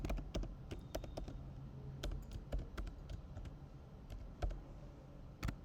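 Someone types C program code on a computer keyboard, with quick irregular clicks and clacks of keys close by, bunched into short bursts with small pauses between them.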